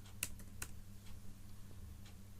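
A few faint, scattered keystrokes tap on a computer keyboard over a low steady hum, quiet and close.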